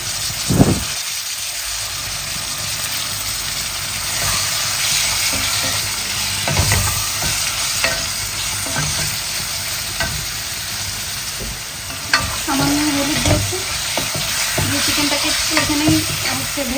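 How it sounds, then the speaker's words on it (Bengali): Chicken breast cubes frying with onion and ginger-garlic paste, a steady hiss and sizzle broken by stirring scrapes and clanks, close and continuous with no talk. "ভেজে নিব আদা রসুন পেস্ট আর পেঁয়াজের সাথে চিকেনটা একটু কষা আসার পরে"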